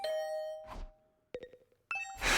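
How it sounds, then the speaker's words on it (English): A doorbell in the video game The Hundred Line rings again and again: clear ding-dong chimes repeat several times, close and bright, separated by short soft whooshes, with no talking. "Hearing the doorbell stubbornly ring again and again"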